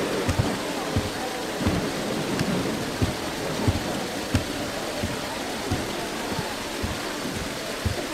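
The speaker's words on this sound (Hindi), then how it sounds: "तुम तो बारिश को देखो" Steady rain pours down with repeated sharp thunder cracks and rumbles throughout, a dense and continuous storm wash heard close, with no voices over it.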